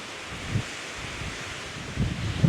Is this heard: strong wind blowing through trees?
yes